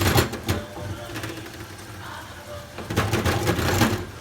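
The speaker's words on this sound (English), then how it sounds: "In the meantime, I'm gonna grind my black pepper." Black pepper ground in a hand pepper grinder, a close rasping crunch in repeated twisting bursts, quieter in the middle and stronger again at the end.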